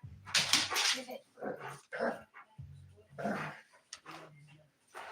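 An Irish setter puppy gives short, close barks and low growls in uneven bursts with quiet gaps between them.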